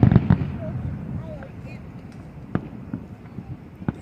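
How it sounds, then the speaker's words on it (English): Fireworks bursting during an evening display, several sharp pops and cracks spread across the moment, with people talking over them. "those are certainly cool fireworks"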